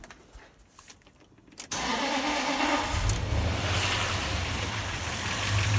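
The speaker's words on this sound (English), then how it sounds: "I'm going to turn this car on." Land Rover Discovery 3 with a 4.4 petrol V8, checked for a rich-running fuel system, cranks briefly and fires into a loud, steady idle that stays up close after a quiet lead-in.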